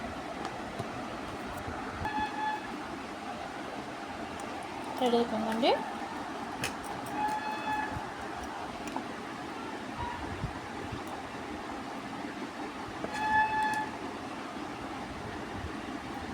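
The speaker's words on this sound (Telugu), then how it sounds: "ఇప్పుడు మిక్సీ పట్టుకుందాము" A mixer grinder whirs steadily as it grinds roasted curry leaves into a dry powder, a continuous rough drone filling the clip while a voice speaks briefly over it.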